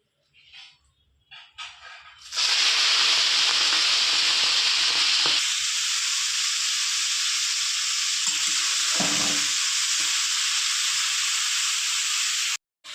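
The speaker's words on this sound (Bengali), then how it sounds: "আমি চিংড়ি মাছগুলো ভেজে নেব।" Prawns hit hot mustard oil in a kadai and burst into a loud, steady sizzle that holds close and continuous for about ten seconds, after a few quiet clinks at the start and before a brief stir partway through.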